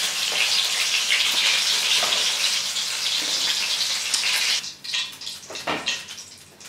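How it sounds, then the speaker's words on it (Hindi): Pizza puffs fry in hot oil with a steady, loud hiss and crackle that thins into uneven sizzles and bubbling as they are lifted out. "इस तरीके से हम सारे पिज्जा पफ फ्राई कर लेंगे।"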